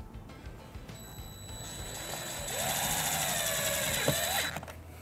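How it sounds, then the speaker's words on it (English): Power tool with a 1/4-inch socket driving a self-tapping screw behind the driver's side taillight of a 2017 Fiat 500, a close whirring motor that speeds up, runs for about two seconds and stops. "we're going to use the provided self-tapping screw and a 1/4-inch socket."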